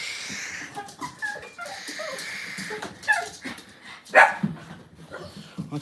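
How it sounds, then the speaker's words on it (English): Dogs indoors at a house bark, yip and whimper excitedly in short bursts. A few bursts are sharper and louder, with quiet background voices in between. "let's go in the house and be attacked by dogs"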